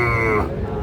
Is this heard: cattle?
yes